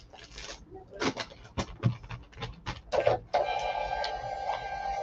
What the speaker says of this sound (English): I'm still waiting for this stupid printer to print.